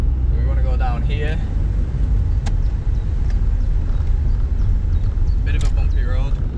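Mazda MX5 driving over a bumpy road, a steady low engine and road rumble running throughout, close and fairly loud, with someone talking over it.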